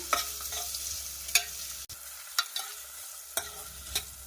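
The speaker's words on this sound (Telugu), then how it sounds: "ఆనియన్ ఫ్రై అయ్యాయి కదా" Onions frying with mustard seeds and cumin in a pan, with repeated spatula stirring scrapes at an uneven rhythm over a quiet, steady sizzle, close up and without talk.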